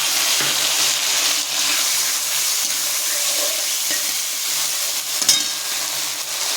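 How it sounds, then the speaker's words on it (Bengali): Cumin, ginger, coriander leaves and two green chillies fry in a pan with beans, a steady close sizzle with occasional stirring scrapes and no talk. "এবার আমি দিয়ে দেবো, এটা হচ্ছে জিরে, আদা আর ধনে পাতা আর 2টো কাঁচা লঙ্কা"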